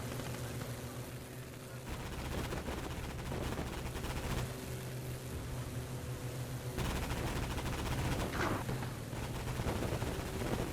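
Sustained machine gun fire in the WWII strategy game Gates of Hell, a dense, continuous rattle of rapid shots with heavy low rumble running throughout, loud and unbroken with no talking.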